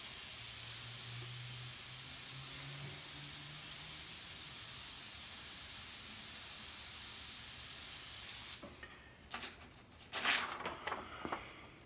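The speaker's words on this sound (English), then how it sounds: "All with an airbrush." An airbrush sprays black paint in a steady, close, soft hiss for about eight seconds. After it stops, a few light handling clicks and rustles follow.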